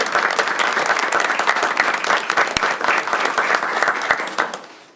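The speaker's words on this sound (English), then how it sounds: "I think we should give them a round of applause" Audience applause at a school celebration where each school receives a banner and certificate: a dense, steady burst of many hands clapping, loud and close, sustained for several seconds before tapering off at the end.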